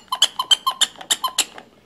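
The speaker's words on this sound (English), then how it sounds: "a horn that squeaks" A squeaky horn on a baby walker toy gives about eight quick, evenly spaced squeaks, close and clear with nothing else around them.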